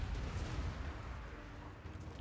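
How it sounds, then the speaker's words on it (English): A big explosion in a Total War: Warhammer 2 battle rumbles as a dense, continuous barrage of booming artillery-like blasts, loud and sustained with no talking. "That was quite a big explosion."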